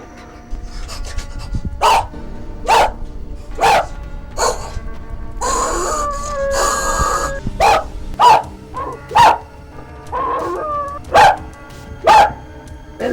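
A voice imitates a dog, giving about a dozen loud, close bark-like yelps in an even rhythm, with a short, messier stretch of noise midway.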